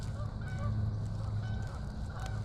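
A duck-like fowl near the water gives a series of short nasal honks, repeated calls close by over a low steady background rumble.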